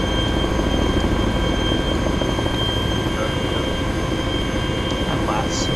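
Small helicopter flying in the Arma 2 Wasteland video game, a loud, constant engine and rotor drone with steady tonal whine, running throughout while a voice speaks faintly over it.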